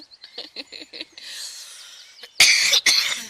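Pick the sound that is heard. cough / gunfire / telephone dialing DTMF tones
cough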